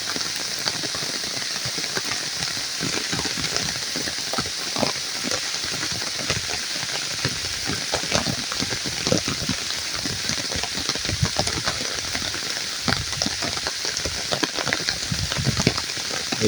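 Heavy afternoon rain falls steadily on a countryside homestead in the Brazilian backlands, a dense continuous hiss with scattered louder drops and patters throughout, no voices.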